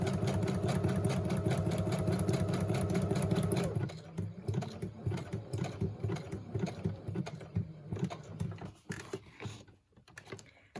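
A sewing machine stitches a wide decorative zigzag on a journaling project, its steady motor hum and rapid needle clatter running continuously, then settling into a lighter, uneven stitching rhythm with small pauses.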